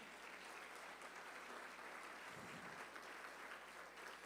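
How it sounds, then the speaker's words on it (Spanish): A church congregation applauds during a sermon. The clapping is faint and distant, a steady, even hiss of many hands that holds without breaks. "Dale un fuerte aplauso al Señor Jesús"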